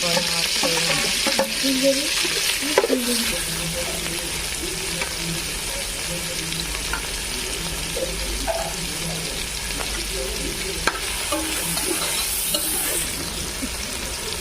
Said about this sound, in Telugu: దీంట్లో మనం అలా టమాటాలు కూడా యాడ్ చేసుకున్నాం వీటితో పాటు అవి కూడా వేగిపోతాయి